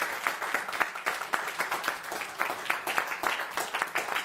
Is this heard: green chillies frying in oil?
no